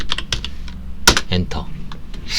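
Keys clack irregularly on a computer keyboard, with one louder tap near the middle, under someone speaking Korean close to the microphone.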